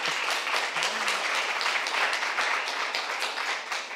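An audience applauds after a talk at a lecture on intelligent technologies, a dense, sustained patter of many hands clapping at even strength throughout, with a brief murmur of voice early on.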